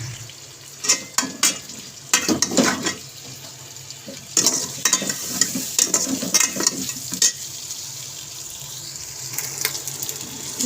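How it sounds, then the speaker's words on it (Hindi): Mutton frying in ghee in a cooking pot for a bitter gourd curry, with a continuous sizzle under repeated scraping and stirring strokes, close and moderately loud. "अब इसमें हम जो है गोश्त वो ऐड करेंगे। इसको हल्का सा फ्राई करेंगे।"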